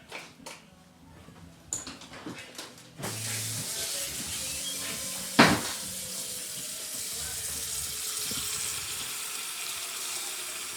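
Hot water runs from a kitchen tap into a pot for boiling tomatoes. A few handling knocks come first, then a steady, close rush of flowing water lasts about eight seconds.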